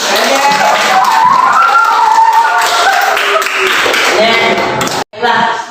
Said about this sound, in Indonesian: Ya, lihat tepuk tangan.